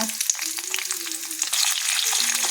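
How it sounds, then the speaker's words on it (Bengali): Chopped onions and chillies sizzle loudly in hot oil with bay leaf and panch phoron, a dense, bright crackle with scraping stirring strokes, close and continuous. "পেঁয়াজটা লাল লাল করে ভাজা হয়ে গেলে"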